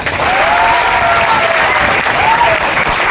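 Dense, sustained applause from a large crowd at a training event, loud and steady throughout, with a faint voice rising briefly above the clapping.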